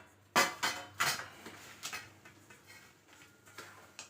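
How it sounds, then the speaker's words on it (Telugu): Semolina roasts in ghee in a pan for jaggery rava laddu, with a handful of quiet metallic scrapes and taps from the stirring spoon, the first few sharper and the rest fading into soft intermittent clicks. "రవ్వ వేయించుకుందాం"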